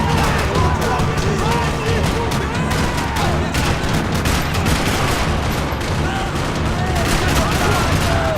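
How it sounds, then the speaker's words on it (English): Sustained gunfire rattles through a parking lot in the video game Max Payne 3, dense overlapping shots and bursts filling the scene loudly and continuously with no pause. "Another parking lot rattling with gunfire."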